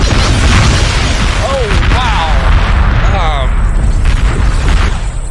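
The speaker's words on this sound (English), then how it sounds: "The massive torpedo barrage!" Massive torpedo barrage from a Klingon D7 battlecruiser in a Star Trek game, loud continuous booming explosions filling the whole stretch, with chirping, warbling effects layered over the roar.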